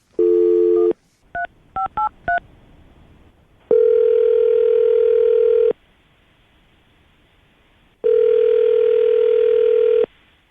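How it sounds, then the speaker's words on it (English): A landline phone number is dialed: a steady dial tone gives way to a quick string of keypad beeps, then two long, loud tone bursts separated by silence, close and alone. "I'm going to dial the phone number, see if she'll answer the phone"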